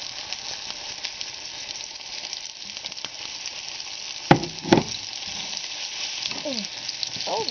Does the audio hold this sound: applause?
no